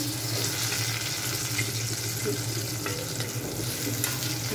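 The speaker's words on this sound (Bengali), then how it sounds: "এরকম করে একটু ভাজে নিচ্ছি।" Steady sizzling of broad beans frying in a pan, a constant crackly hiss with faint stirring scrapes, no voices.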